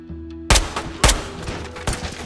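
Sharp gunshots in a video game, three or four loud separate blasts about half a second apart over a quiet, steady game background, with no talking.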